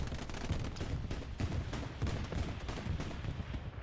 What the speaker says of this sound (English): Is that a bombing run coming in?